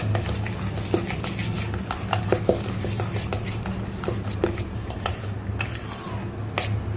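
Sugar being stirred into creamy mango mattha, repeated light clinks and scrapes of a spoon against a bowl over a low steady hum, without voices.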